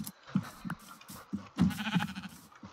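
Sheep in the video game Minecraft bleating, several short nasal bleats in an irregular sequence, clear and close with quiet gaps between them.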